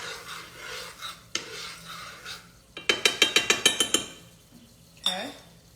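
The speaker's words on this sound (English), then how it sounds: "Once I add that in there, I'm gonna go ahead and stir it up." A utensil stirring food in a pot, scraping and clinking against the metal in a quick run of about eight rhythmic strokes, with a few separate knocks before and after, close and fairly soft.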